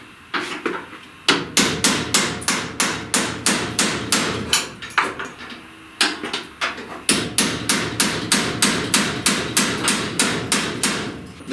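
A hammer drives a chisel between the riveted firewall flanges of a 1930–31 Model A Ford with rapid, ringing metal blows in two long bursts, loud and close, the strikes evenly spaced with a brief pause between runs.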